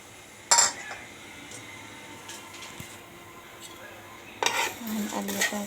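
Vermicelli is stirred in a pot with a spoonful of ghee and two spoonfuls of oil, a metal spoon clanking against the pot in a couple of sharp bursts amid soft scraping and faint frying.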